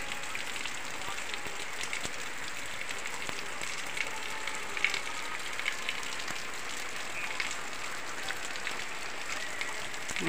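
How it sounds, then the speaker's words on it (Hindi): Heavy rain pattering steadily on surfaces, a dense continuous hiss with scattered louder drops, heard from nearby. "देखिए कितना तेज बारिश हो रही है"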